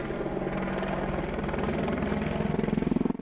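AH-64 helicopter in flight, a steady, loud, dense rotor and turbine roar with a rhythmic blade chop pulsing strongly near the end, no voices.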